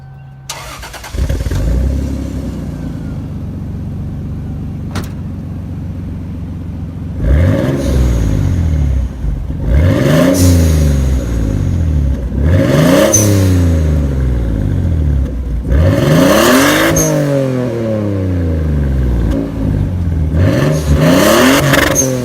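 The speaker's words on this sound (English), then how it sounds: "I'm going to go ahead and play a quick clip of my exhaust" Exhaust of a Toyota Supra starting up and idling, then revved repeatedly in about six sharp rising-and-falling blips, loud and close with no talk.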